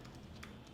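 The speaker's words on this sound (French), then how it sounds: "vous pouvez taper Traffic Manager ici" Quick keystrokes on a computer keyboard, typed while entering a search keyword, come as a few soft clicks close by against a low background hum.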